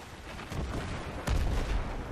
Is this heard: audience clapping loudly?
no